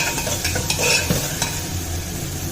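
Tomatoes for a masala soybean curry sizzle in a hot pan while a spatula stirs them, with steady frying hiss and scraping strokes throughout, close and alone.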